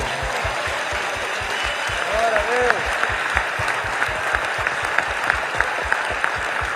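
A church congregation at a missions symposium claps in a steady, rhythmic beat that fills the room, while voices call out praise over the clapping.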